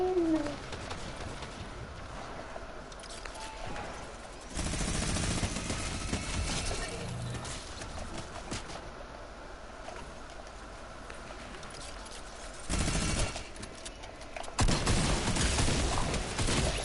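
Gunfire in the Fortnite battle royale game: loud, dense volleys of shots burst out in a couple of separate bursts over a steady game background, with quieter stretches in between.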